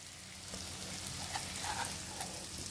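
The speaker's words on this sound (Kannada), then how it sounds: "ಹಾಕಾದ್ಮೇಲೆ ಬೆಳ್ಳುಳ್ಳಿನ ಜಜ್ಜಿರೋದು ಹಾಕೋತೀನಿ. ಈಗ ಈ ಸ್ವಲ್ಪ ಚೆನ್ನಾಗಿ ಫ್ರೈ ಆಗಬೇಕು" Crushed garlic frying in oil for garlic puffed rice makes a faint, steady, even hiss that holds throughout without breaks.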